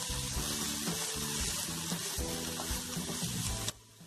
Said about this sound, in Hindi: प्याज को हमने लाल होने तक भून लेंगे।